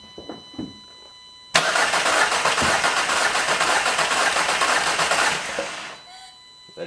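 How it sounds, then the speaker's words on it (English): A Volkswagen MKV GTI engine that needs fuel in its high pressure fuel pump cranks briefly, then catches and settles into a loud, steady idle before shutting off, heard up close. "It's gonna probably struggle to start because we gotta get fuel in the high pressure fuel pump."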